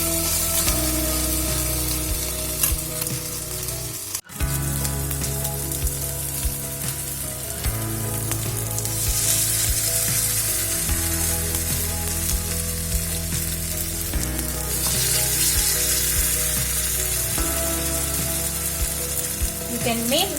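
Appe batter sizzles and fries steadily in an appe pan with a little oil, a loud continuous crackle throughout with a brief dip partway, no talking.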